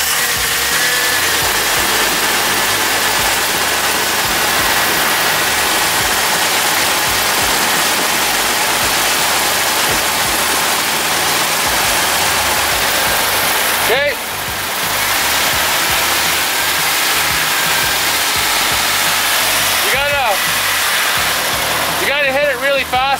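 A car engine with a suspected blown head gasket runs during a coolant pressure test, a loud continuous rushing drone with a few short rev-like swells near the end, heard close with faint talk underneath.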